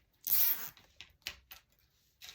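Zip ties being cinched around a wire wreath frame, giving a loud ratcheting zip burst followed by several shorter, quieter zips spaced apart.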